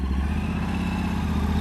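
An adventure motorcycle engine idles steadily, a close, even mid-pitched thrum with faint mechanical clatter, with no talk.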